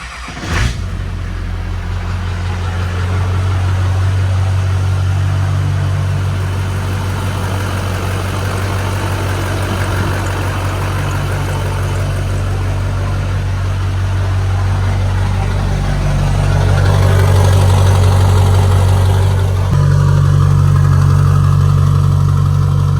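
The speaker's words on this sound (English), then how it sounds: "I'm going to go ahead and start the truck so you guys can hear it" An LB7 Duramax diesel in a truck with an S300 turbo and CP3 fuel pump cranks and fires, then settles into a loud, steady idle with a deep throbbing drone and a rise in revs near the end.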